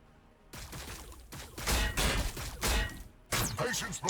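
Explosions in the Warhammer 40k Battlesector strategy game boom in several heavy bursts amid a battle between a Space Marine elite army and Tyranid swarms, loud crashing impacts following each other over a few seconds.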